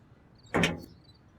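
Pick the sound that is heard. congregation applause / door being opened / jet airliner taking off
door being opened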